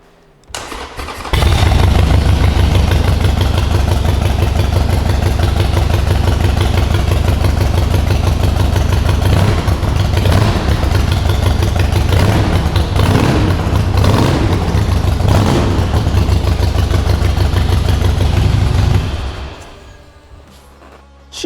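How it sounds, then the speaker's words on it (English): Harley-Davidson Sportster 883 converted to 1200 with a Vance & Hines exhaust, started on a dyno, then a loud, deep, lumpy idle that runs steady for around eighteen seconds before cutting off. Heard up close, with no talk. "Here we have a Vance Hines exhaust, and you just heard how amazing it sounds."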